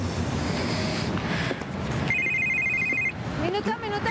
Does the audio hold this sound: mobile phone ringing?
yes